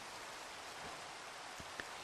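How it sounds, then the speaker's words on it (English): Steady rain hisses down in a Minecraft Skyblock game, a continuous even wash of noise with a faint tick or two and no voices. "And of course it's going to rain on us."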